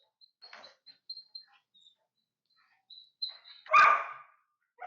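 A puppy in a crate barks and fusses in short, scattered yips and whines, with quiet gaps between bursts and one louder, longer cry near the end, fairly close by.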